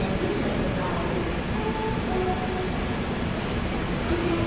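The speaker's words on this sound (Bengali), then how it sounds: "আমাদের ট্রেন কিন্তু ছেড়ে দিয়েছে পুনে রেলওয়ে স্টেশন থেকে একদম অন টাইম 7:15-তে" Onboard the Deccan Queen Express running from Pune toward Mumbai, a steady low rumble of the moving carriage fills the space, with faint squeaks and tonal whines drifting over the continuous noise.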